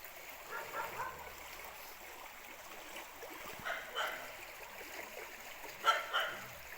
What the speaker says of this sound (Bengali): কুকুরগুলো ডাকাডাকি করতেছে ওইদিকে